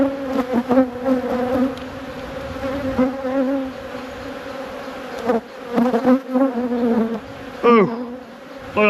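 Honey bees swarm over the top of a hive frame in a nucleus colony, a loud, close, steady buzz with wavering pitch as individual bees fly near, no talk over it.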